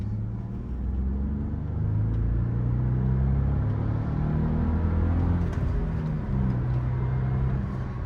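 A 1993 LS coupe with a 6-speed manual, Sirius White Pearl, idles with a low steady rumble, its engine note rising slightly partway through, close by with no talk.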